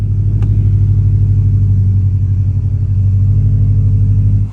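2018 Subaru WRX STI Type RA with an aftermarket exhaust gives a loud, steady, deep rumble, held close and constant for several seconds before cutting off.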